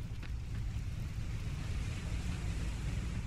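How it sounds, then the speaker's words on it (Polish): Strong wind blowing across a mountain area in the game Dying Light The Following, a steady loud low rumble with gusty noise throughout, no voices. "Ale jak wiatr tu mocno wieje"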